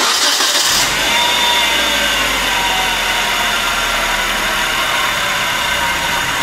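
A 1997 Nissan Altima engine with a misfire runs loud and close in a continuous drone, with an uneven, rough note. No talk is heard.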